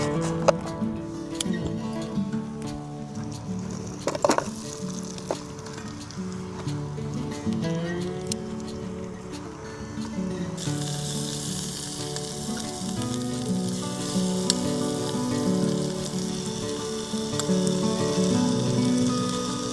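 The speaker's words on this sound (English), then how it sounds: "while those Brussels sprouts are crisping up nice and well" Brussels sprouts sizzle and crackle steadily in a hot pan, a dense continuous frying hiss with occasional stirring clinks, close and fairly loud throughout with no talking.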